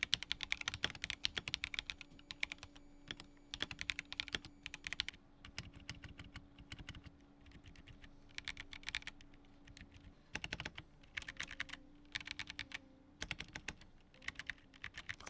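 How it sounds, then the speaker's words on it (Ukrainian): Keys clack on a HyperX Alloy Rise 75 Wireless mechanical keyboard fitted with different switches, close and crisp, in quick bursts of typing broken by short pauses, with a faint steady hum underneath. "Ось так звучить ця клавіатура з різними свічами."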